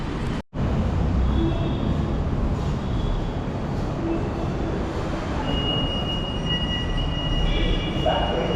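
A Kochi Metro train at Ernakulam metro station, a steady loud rumble of rolling carriages with faint squealing wheels and high whine, continuous and close throughout.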